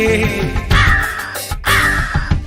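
Two harsh, loud crow caws ring out close by over a steady musical backing, with a short pause between them.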